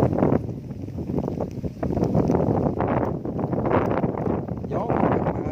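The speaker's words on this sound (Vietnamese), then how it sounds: "Gió các bạn ơi." Strong wind blows across an open, already harvested rice field, a steady, loud rush and buffeting against the microphone that continues throughout with no pauses.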